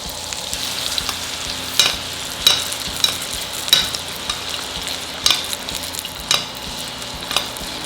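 Pork chops searing in a hot pan give a steady broadband sizzle, with sharp crackles and pops recurring about every half second to a second, close and fairly loud, with no voices.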